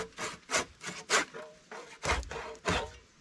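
A handsaw cleans up the corners of notches cut in wood, with about eight short rasping strokes in an uneven back-and-forth rhythm, close and clear with no talk.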